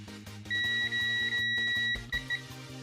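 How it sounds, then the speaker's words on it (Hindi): A multimeter's continuity test beeps as its probes touch during a hair dryer repair. A steady high tone sounds for about a second and a half, breaks briefly, then gives two short beeps over a low humming hum. "जैसे मैं दोनों को मिलाएंगे तो आपको आवाज़ आएगी बीप की"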